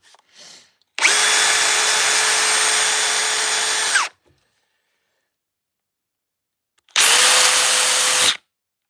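A Surge Gen 2 impact driver runs in two loud, steady bursts, the first lasting about three seconds and the second about one and a half, each with a sharp start and stop and silence between, with no talking.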